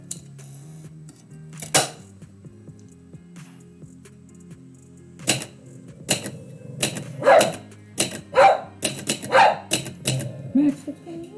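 A pet dog named Max barks and yips indoors in a string of sharp, loud bursts that grow more frequent toward the end, over a low background hum, with occasional typewriter-like clacks.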